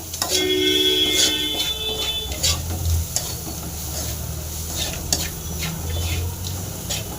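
Bitter gourd fries in a pan with a constant, close sizzle as a spoon stirs and scrapes through it, with a few faint tonal beeps near the start.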